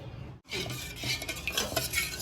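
Salt and turmeric are stirred into raw tamarind juice for an eggplant pulusu, with soft close spoon stirring and light clinks against the vessel after a brief pause.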